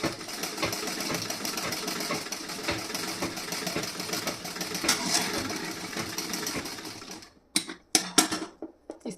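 A sewing machine stitches the front panel of a blouse with a fast, steady mechanical whirr and clatter that runs continuously, then stops, followed by a few short sporadic bursts.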